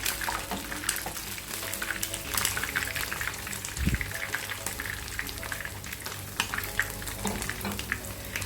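Prawns fry in hot oil with a continuous, busy crackling sizzle, punctuated by a few clinks and scrapes of utensils against the pan.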